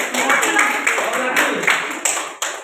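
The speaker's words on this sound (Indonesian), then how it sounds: "Oke, berikan tepuk dulu untuk kelompok." Classroom applause for a student group, a dense patter of many hands clapping that rises and falls in small bursts, with talk mixed in.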